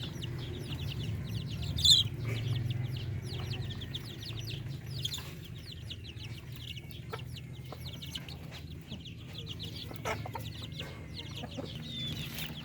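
Native Filipino breeder chickens cluck and call steadily in a coop, with a sharp nearby squawk early on and scattered clucks and chirps over a constant low hum, no talking.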